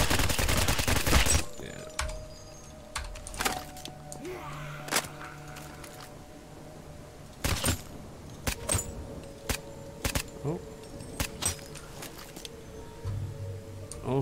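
Loud keyboard and mouse clicks picked up by a nearby microphone during a video game, coming in sharp scattered bursts and rapid clusters over quiet background game sounds.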